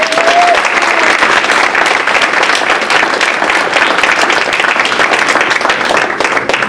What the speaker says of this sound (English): let's have one more round of applause for our shining stars